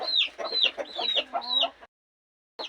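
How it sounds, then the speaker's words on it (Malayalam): A brooding hen clucks in a quick run of close, loud calls for almost two seconds, then falls silent and starts clucking again near the end. "ഇവളാണ് തുണ കോഴി"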